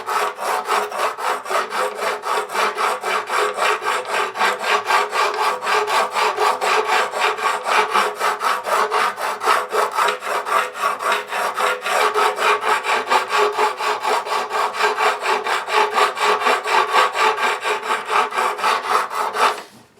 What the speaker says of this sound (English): And I'm just going to sand this down.